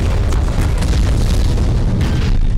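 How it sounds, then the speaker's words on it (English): Grenades explode in an animated skibidi toilet battle, a loud, continuous rumbling boom with crackling bursts that fills the whole moment. "I forgot those are grenades."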